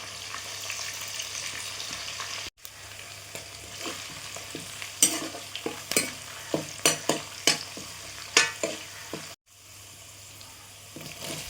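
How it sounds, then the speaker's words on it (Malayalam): Green chillies and curry leaves crackle in hot oil for Kerala-style chicken curry, a steady sizzle punctuated by a run of spatter pops and stirring scrapes, with two abrupt cuts and no speech. "പച്ചമുളക് ചേർത്ത് കൊടുക്കാം. കരിവേപ്പില ചേർത്ത് കൊടുക്കാം."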